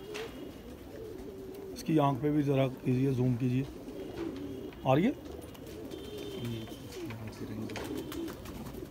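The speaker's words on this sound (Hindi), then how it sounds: "बिल्कुल नरम जिस्म के कबूतर हैं" Rampuri pigeons with soft bodies give several loud, close, rolling coos in bursts, while someone talks intermittently nearby.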